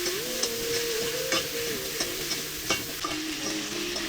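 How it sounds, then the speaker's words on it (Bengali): Potatoes and drumstick pods fry in oil in a pan for a catla fish curry, a close, steady sizzle broken by regular scraping strokes of a spatula and a faint tonal hum beneath. "সেগুলোকে দিয়ে ভালোভাবে একটু দেখো ভেজে নিচ্ছি"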